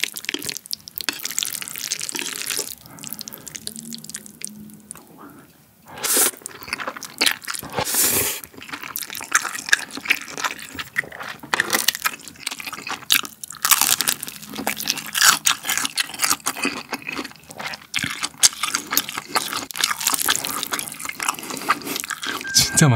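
Close-up eating of Buldak fire noodles with whole grilled pig intestine: wet slurps, chewy crunching and sticky mouth sounds come in irregular bursts, with short quieter gaps and no talking.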